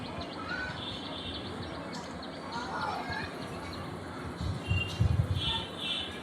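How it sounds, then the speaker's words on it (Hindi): Birds chirp and tweet in the background over a busy outdoor ambience, with a few louder thumps near the end. "थोड़ी सी चिड़ियों की आवाज़ सुन ली जाए"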